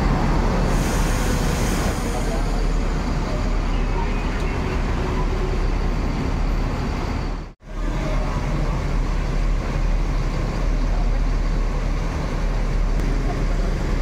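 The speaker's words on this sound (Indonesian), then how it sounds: "Masuk Kumarang Jaya pertama di Terminal Kampung Rambutan." A Kumarang Jaya bus rolls into Kampung Rambutan bus terminal, its engine a steady loud rumble amid busy terminal traffic noise, with a brief dropout midway.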